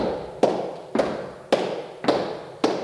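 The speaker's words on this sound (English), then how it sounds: "I'm now doing 2 claps" Five slow, evenly spaced hand claps ring out nearby, each crisp and separated by roughly half a second of quiet.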